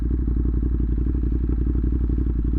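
A motorcycle engine makes over 110 horsepower in sport mode, with a loud, close, rapid pulsing throb that holds steady and thrums rhythmically throughout.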